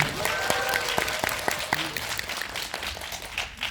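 Dense, steady applause from a theater audience at a guest-visit Q&A screening of the Korean film 운수 오진 날, with the director and lead actors present; sharp claps stand out near the start and a voice briefly rises above it early on.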